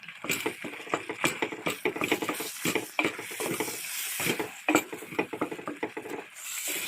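An egg goes into a pan with tomato and cooks, giving a run of close scraping, tapping and stirring clatters in uneven bursts, with a soft steady sizzle beneath and no talk.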